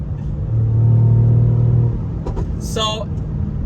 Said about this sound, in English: For a V6 with turbos, it sounds a lot better than what's out there now.